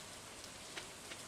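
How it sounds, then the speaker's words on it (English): Green rain falls in the Stardew Valley video game as a steady, even hiss of rain on surfaces with a few faint droplet ticks and no voices. "it is green rain"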